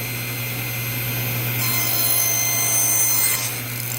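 Close, continuous rasping of a saw cutting through a wooden bed slat, steady strokes that grow slightly brighter and louder toward the end, with no voices.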